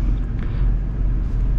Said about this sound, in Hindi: चलने लगी गाड़ी हमारी फर्स्ट गियर पे